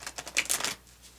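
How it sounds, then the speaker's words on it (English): Oracle cards being shuffled by hand, a quick burst of crisp papery riffling lasting under a second, close and fairly quiet, then fading to near silence. "Give these a good couple of shuffles."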